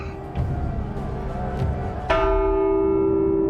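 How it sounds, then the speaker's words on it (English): A church bell in The Walking Dead: Saints & Sinners game tolls loudly, a low metallic strike at the start and a second heavier clang that rings out with a long sustained hum. "rang the bell!"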